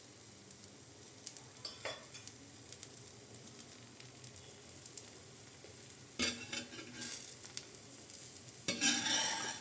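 A healthy dosa sizzles on a hot pan after half a spoon of oil is drizzled around it, giving a steady frying hiss with occasional louder crackles and light scraping near the end.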